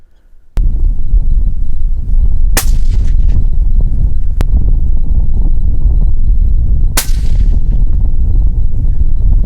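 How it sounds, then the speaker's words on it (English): Loud, sharp reports from a 22-250 rifle fired on open prairie at pests, two distinct shots several seconds apart with some echo, amid steady wind noise, no talking. "Let's do some shooting."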